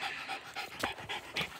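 A dog pants quickly and rhythmically inside a kennel, quiet and close, with short breathy bursts.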